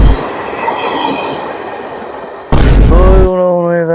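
A train rumbles past near a railway track in a rural North Karnataka comedy scene, a loud, steady roar that surges suddenly and is then joined by a long, loud horn blast.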